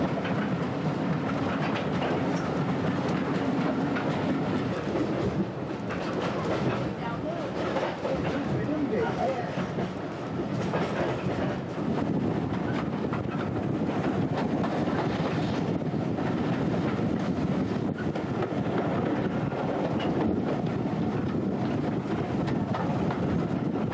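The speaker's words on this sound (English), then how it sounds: "We are now pulling into the yard at Pickering" A steam train on the North York Moors Railway rumbles steadily along the rails near Pickering with a continuous clatter and wind buffeting, talk faintly mixed in throughout.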